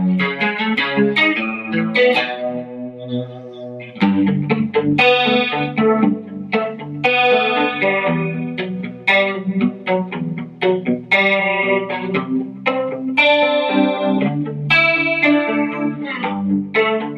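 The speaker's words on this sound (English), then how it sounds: "It's called Call the Cops. Instantly, it was a police chorus." Electric guitar through a Strymon Mobius on an 80s chorus patch, playing riffs with shimmering, plucked chord stabs and arpeggios, loud and continuous.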